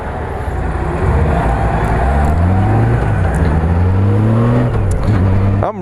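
Honda Goldwing motorcycle on the road, a close, loud steady engine drone with rising and falling pitch as it shifts and accelerates, wind rush underneath.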